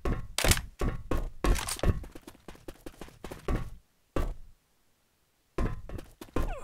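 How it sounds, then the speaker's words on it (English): Weapon reloading in the Left 4 Dead 2 video game: a rapid series of sharp mechanical clacks and thunks, close and loud, then a short silence before a few more hard clicks. "I'm reloading"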